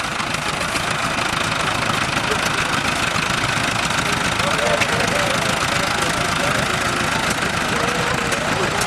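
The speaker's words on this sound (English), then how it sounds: "Oh, Jim's got a really slow tractor there." A tractor engine idles and putters low and steady during a slow tractor race at the Sky Valley Tractor Show, a constant mid-low rumble with people talking over it.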